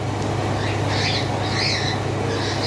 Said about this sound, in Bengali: এইখানে একটা পেয়ার অ্যালবিনো কোকাটেল।